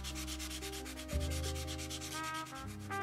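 Soft foam sanding stick rubbing putty on a 1/32 Italeri F-104 A model kit, a steady rhythmic back-and-forth scrubbing, close and fairly quiet with no talk.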